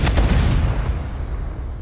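A fire spell blast in Hogwarts Legacy, a deep booming explosion close and loud, rumbling and fading over about two seconds.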